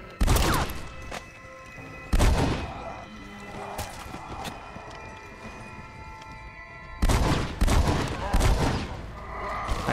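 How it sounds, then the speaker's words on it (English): Semi-automatic shotgun fire in the game Red Dead Redemption: Undead Nightmare: three loud, booming blasts at roughly even spacing, each with a decaying tail over a steady game-ambience bed. "Semi-automatic shotgun."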